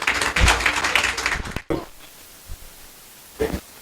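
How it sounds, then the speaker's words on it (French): Audience at a ceremony honoring the man of the year in Saint-Louis bursts into loud clapping for about a second and a half, then falls quiet with a few scattered later claps. "Allocution sous vos applaudissements"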